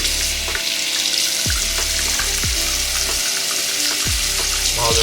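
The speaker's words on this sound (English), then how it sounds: "Again, wash under warm water." A razor rinsed under warm running water from a tap, a loud, continuous rush of flowing water with small clinks and knocks as the blade moves through the stream.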